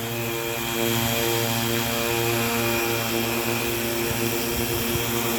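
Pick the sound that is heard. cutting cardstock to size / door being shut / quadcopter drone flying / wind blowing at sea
quadcopter drone flying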